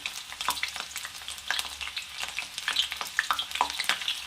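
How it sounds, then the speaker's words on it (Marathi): Finely chopped onion and a bay leaf frying in hot oil for chole masala, a steady crackling sizzle with scattered sharper pops and stirring, close up and alone without speech. "तापलं तर यामध्ये बारीक चिरलेला कांदा ॲड करायचा आणि तेजपत्ता ॲड करत आहे मी"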